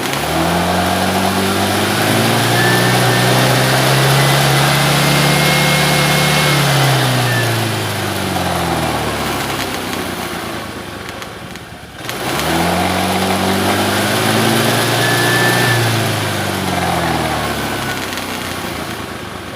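A small engine is revved hard twice, each time rising to a loud, sustained high-pitched whine before easing off, with a brief dip between the two runs. The sound is close and there is no talk over it.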